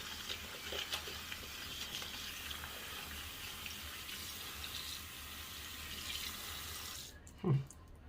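Water runs from a tap as a shaving puck or brush is rinsed, a steady near hiss with a few splashes, ending in a brief louder gurgle as the flow stops.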